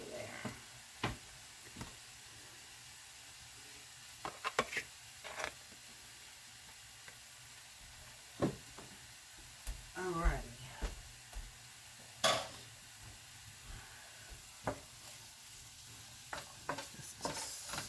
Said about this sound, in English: Saute just a little bit more